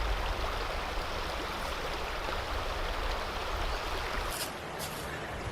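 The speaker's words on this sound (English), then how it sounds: "this is what it sounds like with water behind me and the Rode mic" Flowing water close behind, recorded outdoors on a Canon EOS M50 Mark II with an attached Rode microphone: a steady, full broadband rush that holds even throughout, with no talk.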